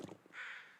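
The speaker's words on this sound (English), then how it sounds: "I heard crows." A crow caws once in The Long Dark video game, a single short harsh call at moderate distance, faint against quiet background.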